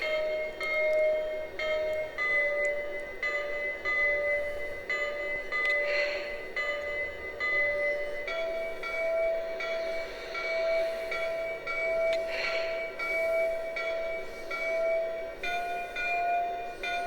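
The bell of a Lionel Legacy Atlantic 4-4-2 model train rings steadily and repeatedly for a long stretch, a soft, even clanging tone heard close and alone.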